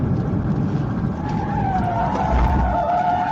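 A car skids hard during a police PIT maneuver on a freeway, a loud continuous tire scrape with a rising squeal near the end, close and alone.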